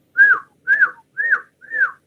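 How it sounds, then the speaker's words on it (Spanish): A person whistles through a narrowed mouth, blowing four separate short whistled notes at an even pace, each one rising and then falling in pitch, clear and close with no talking. "Ese es el silbido"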